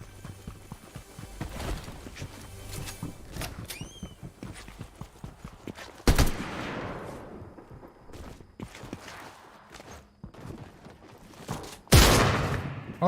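Two loud shotgun blasts in Fortnite box fights, spaced several seconds apart, each a sharp burst with a decaying tail, over busy game sounds and footsteps.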